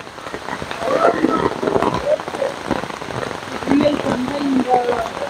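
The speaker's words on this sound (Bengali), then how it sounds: "খুব বাইরে বৃষ্টি পড়ছে।" Heavy rain falls outdoors at a living root bridge grown from rubber plant roots in Meghalaya, a steady dense patter of drops on surfaces with wet splashes throughout.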